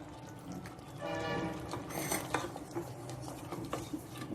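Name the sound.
stirring country chicken with biryani masala in a pot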